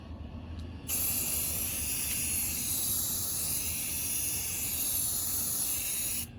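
A steady, loud aerosol hiss bursts on after a brief quiet moment and sprays continuously for several seconds onto a rocking chair being refinished, before cutting off abruptly.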